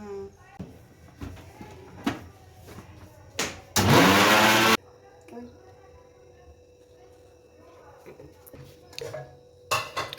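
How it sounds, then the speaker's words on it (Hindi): A blender whirring loudly for about a second over crushed oats and sugar, abruptly starting and stopping, amid quiet household clatter and people talking. "So we are gonna blend it."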